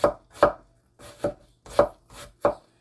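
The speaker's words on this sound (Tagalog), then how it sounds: "hiwain ng ganito. Maliit lang siya. Maliit lang hiwa nyo dapat yun" A knife chops apple into small pieces on a cutting board. About seven crisp, close thuds come in an uneven rhythm, with no voices.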